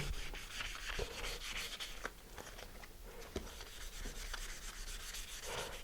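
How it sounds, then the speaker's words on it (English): Fine grit sandpaper rubs back and forth over balsa wood mini-copter blades mounted on a dowel, a close, steady scratchy hiss with soft rhythmic strokes and no voices. "using some fine grit sandpaper, just sand them"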